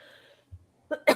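A person's sneeze, quick and fairly quiet: a short intake of breath, then a sharp burst near the microphone.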